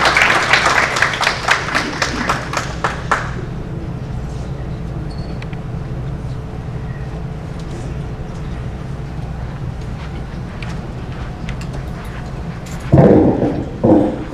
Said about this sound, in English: Ladies and gentlemen, a round of applause for Dr.